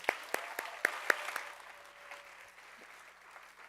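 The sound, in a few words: audience applause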